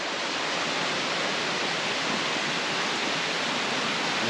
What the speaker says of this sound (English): I think we are very close to the Utachschlucht waterfall.